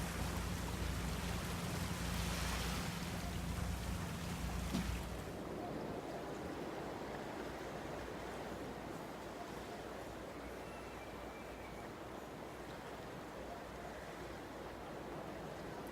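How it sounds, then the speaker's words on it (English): Ocean waves roll and crash on a Bali beach in a steady, broad wash of surf that stays fairly loud and even throughout, with a denser rumble early on that eases after a few seconds. "start to just tune into the sound of the waves rolling"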